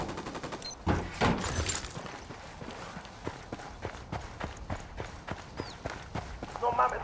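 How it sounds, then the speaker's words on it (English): Rapid bursts of gunfire from a firefight in the video game Tom Clancy's Ghost Recon Wildlands, a steady string of sharp cracks and shots running the whole time, with a few heavier bursts and voices talking over them. "I'm opening fire on these shitheads."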